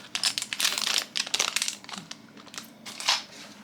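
A tyre pressure monitoring system package being unboxed, with close, loud crinkling and crumpling of plastic packaging in irregular rustling bursts.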